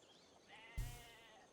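Sheep bleating in the strategy game Civilization 5, a single short game sound effect that starts abruptly with a soft thump and a wavering bleat, fairly quiet and heard alone.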